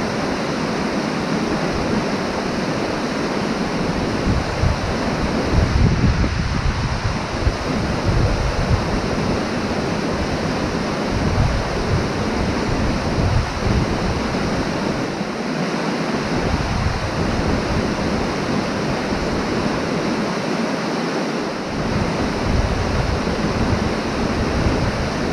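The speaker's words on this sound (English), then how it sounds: "It's pouring with rain." Heavy rain pours steadily on a riverbank during barbel fishing in Sussex, a dense, continuous hiss that stays loud and unbroken from start to finish, with gusts and low rumbles of handling noise underneath.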